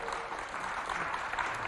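Steady audience applause at a Festafrica show event honouring women in media, a dense even patter of many hands clapping throughout, moderately loud and continuous with no pauses.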